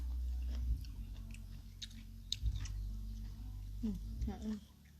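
Crunchy blanched enoki and king oyster mushroom salad, chilled in ice water, is chewed in a few close, moist crunching bursts that sit under and between steady talking.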